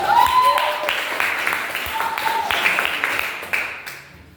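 Classroom applause for a student group rises and fades over about four seconds, a modest patter of hands from a handful of students, with a few voices mixed in.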